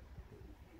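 Soft, low cooing of racing pigeons, faint and brief, with a quiet background.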